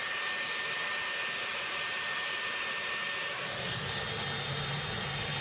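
A Dyson Airwrap with a round brush attachment blow-drying hair runs as a steady, close, loud whoosh of airflow, with its pitch and low rumble shifting partway through as the brush moves through the hair.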